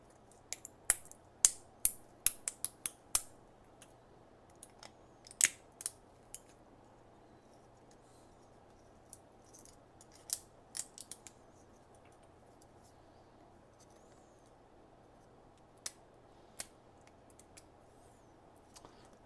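Print supports being ripped off a 3D-printed robot arm part, heard as sharp dry snapping cracks that come in clusters early on and then turn sparse, close-up over a quiet background hum.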